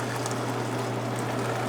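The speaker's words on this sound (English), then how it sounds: "Over the chinois and carefully pour." Lobster stock being poured through a chinois strainer off the heat, giving a steady, even liquid rush with a faint low hum underneath, continuous for the whole short stretch with no voices.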